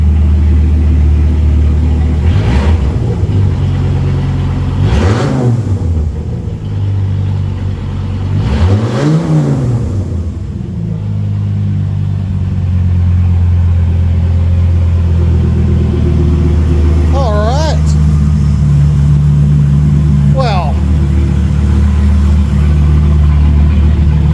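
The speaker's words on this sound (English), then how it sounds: "Keys on, push start." An old Dodge truck engine running after sitting for years, loud and close, idling with a rumbling exhaust and blipped through several sharp revs that rise and fall, with no talk over it.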